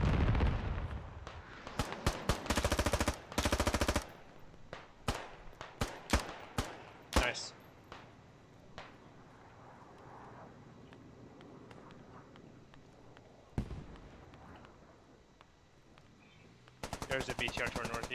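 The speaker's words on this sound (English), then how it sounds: "I can only tell that because of the AK noise. They give off a different sound than your M4s." Bursts of AK rifle fire in the tactical shooter Squad, crackling in short automatic strings and single shots, some close and loud, others more distant, with quieter gaps and a final sustained burst.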